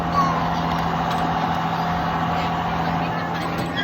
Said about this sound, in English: We are already on the tractor.